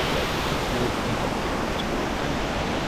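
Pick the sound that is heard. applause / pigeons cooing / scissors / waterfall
waterfall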